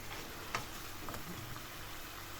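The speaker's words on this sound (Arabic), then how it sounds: "كنديرو في المقلاة، كنشعل عليه مزيان حتى كيتشرب" Fish liquid simmering in a frying pan gives off a faint, steady sizzle with a few light ticks and crackles, alone and with no voices.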